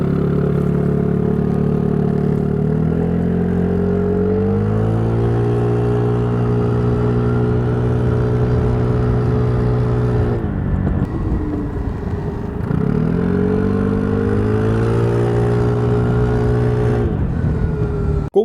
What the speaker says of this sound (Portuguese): O motor acelera a uma determinada faixa de rotação, geralmente em seu pico de torque